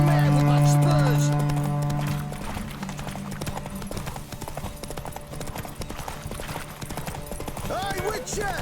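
Geralt's horse Roach galloping in The Witcher 3, a fast, steady clip-clop of hooves heard close throughout, following a low sustained hum at the start, with no talk.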